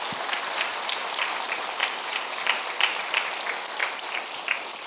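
A church congregation applauds its teachers during a dawn prayer service, a steady wash of many hands clapping at moderate distance, fairly even with small swells, no voices standing out.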